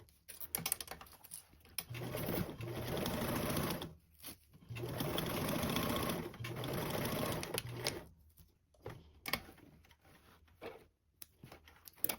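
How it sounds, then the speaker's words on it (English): A sewing machine bastes duffle bag panels along the sides and bottom at a 1/8 seam allowance, running in two long steady bursts, then several short stop-start stitches and clicks close by. "you can baste these on along the sides and the bottom using a 1/8 seam allowance"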